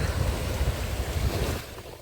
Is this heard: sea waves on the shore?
yes